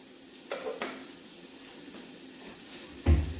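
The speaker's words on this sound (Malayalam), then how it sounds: "നമുക്കിതൊന്ന് കടുവ് വറുത്ത് കൊടുക്കാം" Mustard seeds frying in a little oil, a quiet crackling sizzle broken by a few sharp pops and clatters of a spoon against the pan, ending in a louder clunk.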